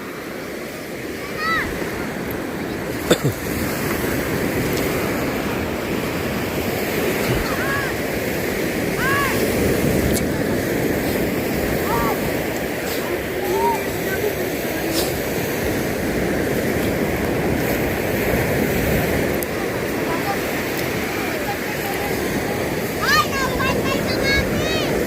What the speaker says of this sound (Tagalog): Maliit ng alon.